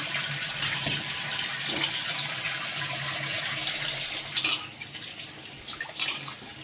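Running tap water splashes over chirriaku leafy greens being rinsed in a container, a steady close rush with a few sharper splashes and drips near the end.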